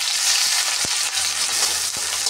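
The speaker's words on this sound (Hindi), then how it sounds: "अब इसमें डाल देंगे प्याज।" Chopped onions sizzle steadily in hot mustard oil in a home kitchen wok, a loud continuous frying hiss with a few soft clinks of stirring, no voices.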